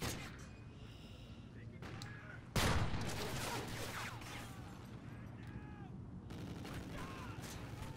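Gunfire crackles through an online shooter match, with a sharp loud burst near the middle standing out over steady background game noise and scattered mechanical clatter.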